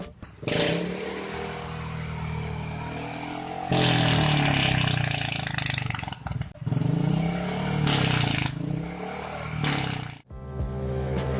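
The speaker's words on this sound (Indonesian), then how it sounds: "mending denger sendiri aja deh suara knalpot ember di motor matic" A scooter-style automatic motorcycle with a loud, boomy aftermarket exhaust revs repeatedly, roaring up and dropping back between bursts, close and harsh.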